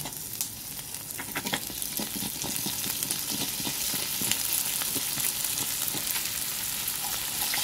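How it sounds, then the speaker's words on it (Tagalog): Dried fish (daing) frying in a pan gives a steady, even sizzle with crackling oil and faint stirring, heard up close and alone with no talk. "Habang piniprito natin yung huling daing"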